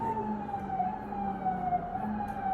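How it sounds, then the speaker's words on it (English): A wailing siren drones steadily in the distance, its pitch wavering slightly over a low background rumble, with no voices. "sorry about the sirens"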